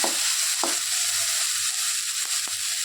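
Tomatoes and onions sauté in a pan for a corn and potato lunch dish, a loud, steady close-up sizzle with a couple of soft stirring scrapes and no voices.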